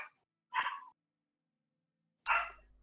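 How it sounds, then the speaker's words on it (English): A dog barking, two short separate barks with a pause between, close and fairly loud against silence. "I heard a lot of barking"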